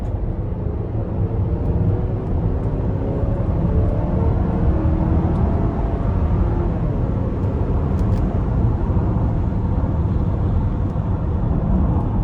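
Inside a 2025 Buick Enclave Avenir under acceleration, a steady low engine and road drone fills the cabin with rising tonal hum, loud and continuous without speech.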